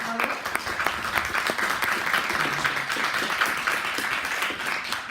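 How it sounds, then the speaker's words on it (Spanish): An audience at a Spanish-language university law lecture breaks into steady applause, a dense wash of many hands clapping at moderate distance for several seconds, with a voice briefly audible at the start. "Un aplauso para él, por favor."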